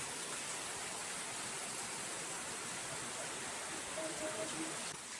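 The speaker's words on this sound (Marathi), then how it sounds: "पाऊस काय थांबत नाही" Heavy rain falling outdoors in Konkan, a dense, even hiss of downpour filling the whole stretch without pause, steady and moderately loud.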